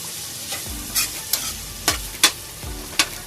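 Miso and crushed tomatoes cook in a pot, a soft bubbling sizzle broken by half a dozen distinct scraping strokes and taps of a spoon as the mixture is stirred.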